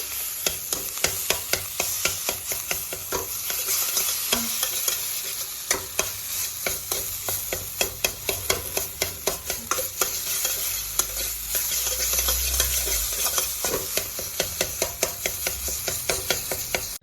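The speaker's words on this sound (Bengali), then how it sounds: "এই আলুটাকে একটু একটু কড়াইতে নেড়ে নেব" A potato filling with salt, turmeric and ginger is stirred and scraped around a wok, with steady sizzling frying and repeated spatula scrapes and knocks throughout.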